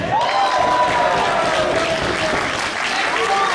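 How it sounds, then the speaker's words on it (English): A wrestling crowd at a Beyond Wrestling show applauds a wrestler called the Cowboy, a sustained wash of clapping and cheering in the venue with a voice carrying faintly over it. "Let's give a round of applause for the Cowboy."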